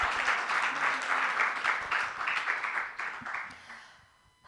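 A church congregation in Moscow applauds together: steady, dense clapping from many hands that swells in waves for several seconds, then tapers off to near quiet.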